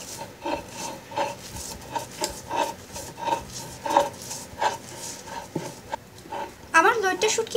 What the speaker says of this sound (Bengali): এবার আমি শিল পাটায় বেটে নিব।